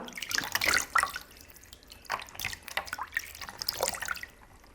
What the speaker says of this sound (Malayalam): തണുത്ത വെള്ളത്തിൽ നമുക്ക് ഫേസ് ഒന്ന് വാഷ് ചെയ്തെടുക്കാം